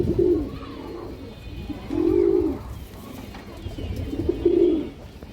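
Large female pigeon cooing in three slow, evenly spaced phrases, close and clear over a quiet background.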